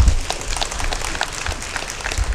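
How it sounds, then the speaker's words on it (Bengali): Ceremony audience applauding during an honouring at a distributors' day celebration, a steady wash of clapping lasting a couple of seconds at moderate level. "একটু করতালি কিন্তু চাই"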